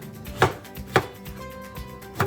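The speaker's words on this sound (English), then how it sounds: "I just cut those into chunks" A knife chopping apples into chunks on a cutting board, four crisp, evenly spaced strikes, close and clear, with no talk.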